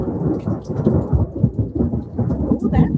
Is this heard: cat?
no